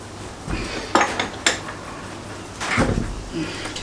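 Metal clanks from a breaker bar being fitted onto a nut on a BMW diesel engine: a few sharp, close knocks and scrapes in quick succession, followed by a duller rattle.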